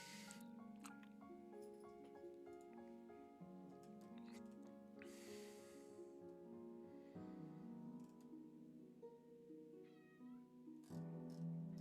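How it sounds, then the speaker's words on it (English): A cat meows repeatedly in clear, tonal calls, some drawn out and some short, fairly close and alone with no talk over it. "he's meowing up a storm over there"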